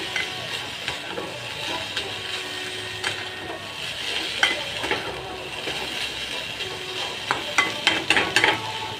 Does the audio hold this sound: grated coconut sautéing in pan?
yes